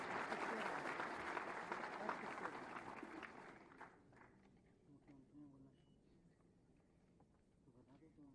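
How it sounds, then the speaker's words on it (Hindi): Loud applause from a crowd at a government appointment letter distribution ceremony in Uttar Pradesh for the first few seconds, then tapering off into scattered claps and quiet room noise. "आप सबकी जोरदार तालियों के अभिवादन के साथ।"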